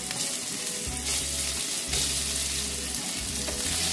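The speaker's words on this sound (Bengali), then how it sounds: "ভেজে নেবো পনিরটা।" Paneer cubes fry in hot oil with powdered sugar and a little salt, giving a steady, fairly loud sizzle with a continuous low rumble and no talking.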